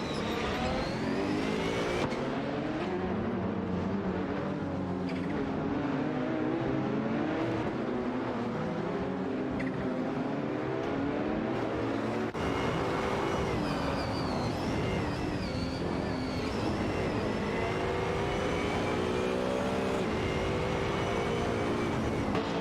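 Race car engines in an AI-driven racing video game: continuous loud, layered engine whine with pitch sweeping up and down as cars accelerate, shift and pass, a brief faint tire squeal, and no voices.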